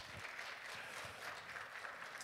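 Congregation applauding in a Korean church worship service, a dense, steady wash of many hands clapping without a break, fairly loud and close throughout.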